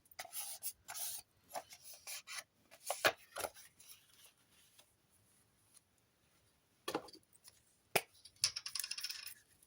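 Paper for a Christmas collage being folded in half: crisp rustles, creases and scrapes come in irregular close bursts with quiet gaps between, and no voice.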